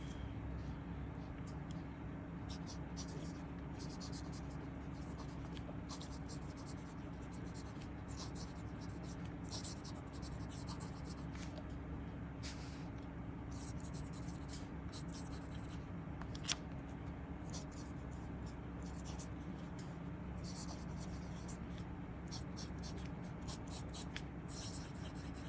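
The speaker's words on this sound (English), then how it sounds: "I'm going to bring my mic close to where the pen is. So let you hear the" Pilot Elite fountain pen nib writing on Rhodia paper, picked up by a close microphone as a soft, continuous scratching under a steady background hum.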